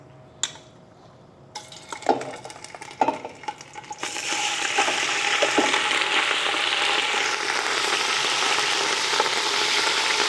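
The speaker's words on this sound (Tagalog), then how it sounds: "painit lang tayo ng mantika, tapos isisir natin itong mga karne" Pieces of beef for beef pares hit hot cooking oil, with a few clinks of utensils and pan early on before a loud, steady sizzle takes over and holds close for the rest.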